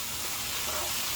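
Garlic sizzles in a frying pan alongside mushrooms, a dense, steady crackling hiss close up with no pauses.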